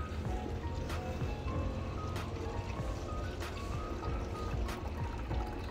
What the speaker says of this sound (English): So you don't need any funnel to pour your car shampoo into the container